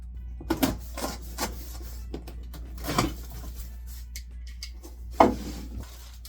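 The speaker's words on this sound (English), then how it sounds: "Now let's go ahead and unbox the Spoilboard." Aluminum and MDF spoilboard pieces for a Genmitsu ProverXL V2 CNC 6060 extension kit are unpacked, with scattered knocks, rustles and clunks of packaging and parts handled up close.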